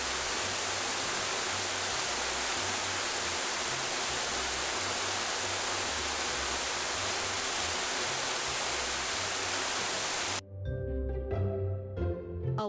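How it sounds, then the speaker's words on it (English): Waterfall pouring into a pool below, a steady, loud, dense rush of falling water that stops abruptly near the end and gives way to a short burst of music. "A waterfall is a place where water flows over the edge of a steep, high cliff in hills or mountains and falls into a pool below."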